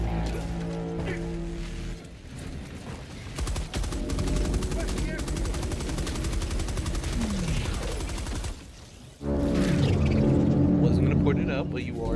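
Automatic sentry turret in Helldivers 2 firing in sustained bursts amid a loud game battle, dense rattling gunfire with rumbling explosions and a short lull before the barrage resumes.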